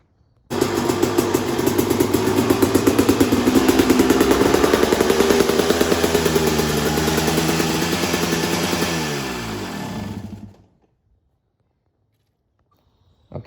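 A 2003 Honda RM250 two-stroke motorcycle, freshly rebuilt at the top end, fires up and runs close and loud for about ten seconds with a rapid, steady engine note before cutting off into silence.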